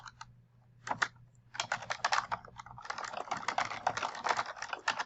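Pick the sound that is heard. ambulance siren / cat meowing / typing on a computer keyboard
typing on a computer keyboard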